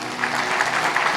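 A congregation at a Punjabi Christian sermon claps loudly and steadily, a dense, close wash of many hands without pause.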